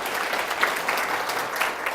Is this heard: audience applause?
yes